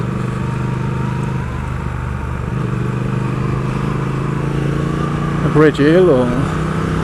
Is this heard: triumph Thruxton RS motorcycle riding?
yes